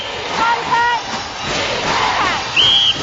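Crowd at the 2003 World Netball Championships final in Jamaica cheering for New Zealand, a broad roar with whistles cutting through the noise of the arena, and a commentator's voice over it.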